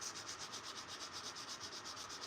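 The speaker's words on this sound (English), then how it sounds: "if you break the tip off your knife while you're hand sanding it" A knife blade is sanded by hand in steady, even strokes, a soft rhythmic rubbing and scraping that repeats several times a second with no talk over it.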